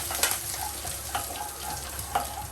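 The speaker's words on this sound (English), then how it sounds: "Give it a rough stir." Curry leaves are stirred into misal masala sizzling in hot oil in a pan, giving a steady close frying hiss with a few soft spoon scrapes.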